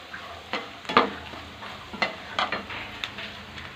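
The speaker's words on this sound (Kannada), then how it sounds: "ಇದು ಫ್ರೈ ಆಗ್ತಾ ಇದೆ" Avalakki, flattened rice, fries in hot oil for a crispy evening snack, a steady sizzle under scattered stirring scrapes and light clinks of a utensil in the pan, close by with no talking.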